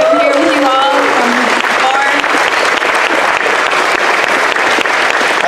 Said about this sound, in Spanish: Quiero que den un fuerte aplauso por ustedes